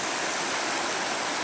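A brook flows over rocks beside a salmon-fishing spot in Newfoundland, giving a close, steady, rushing wash of water with no voices.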